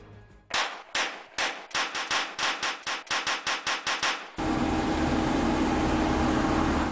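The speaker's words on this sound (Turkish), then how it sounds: "Sokağın sakinliğini silah sesleri bozdu." Rapid gunfire erupts on a street at dawn during a clash between feuding groups: about fifteen sharp, loud reports in an uneven burst over four seconds, then a steady broadband roar takes over.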